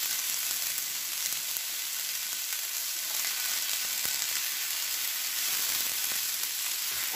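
Japchae, Korean stir-fried noodles, sizzling steadily in a hot pan, a bright continuous frying hiss with no talk.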